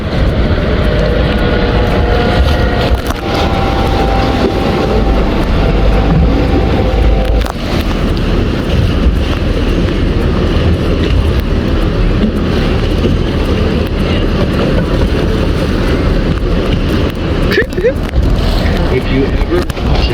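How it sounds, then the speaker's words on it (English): A helicopter flies overhead during a sea tour off Kauai, Hawaii, its steady loud rumble blending with boat and wind noise for the whole stretch. "Cue the helicopter. The helicopter. Do you hear it?"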